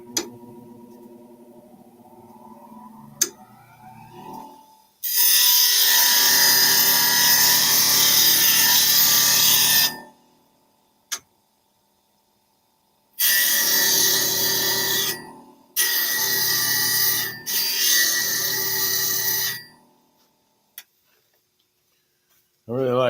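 A bench grinder sharpens a skew chisel for woodturning, with loud sustained grinding in several bursts of a few seconds each, separated by short pauses and followed by brief quiet.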